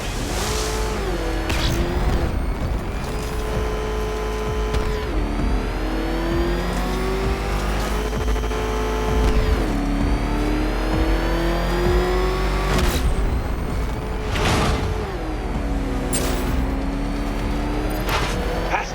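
Car engine revving in the video game Batman Arkham Knight, a continuous mid-pitched motor rising and falling as gears shift, with tire squeals and occasional crashes over steady music, a voice briefly heard.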